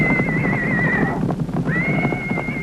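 A horse whinnies loudly and up close, a long wavering neigh that breaks off briefly and then resumes.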